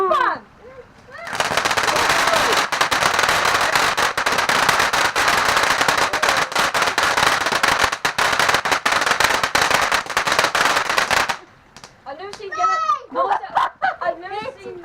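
Bonfire night fireworks crackle in a dense, loud burst of rapid firecracker pops lasting about ten seconds, followed by children's voices talking and exclaiming afterward.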